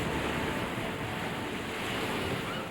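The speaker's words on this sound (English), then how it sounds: "waves assail the rocks with surging strength." Ocean waves surge and crash against the rocky Maine shoreline at Thunder Hole, a loud, continuous roar of churning surf with steady wind noise and no voices.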